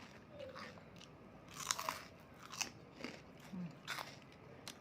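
Crispy fried pork rinds being bitten and chewed up close, with several sharp crunches spread unevenly through the stretch over a faint background hiss.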